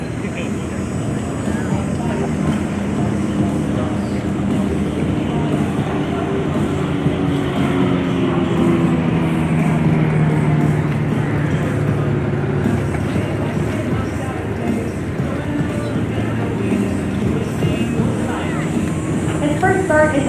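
Extra 330 LC aerobatic airplane at the Canadian International Air Show, its engine a steady loud drone holding throughout, rising and shifting in pitch as it flies a tail slide, with a commentator talking over it.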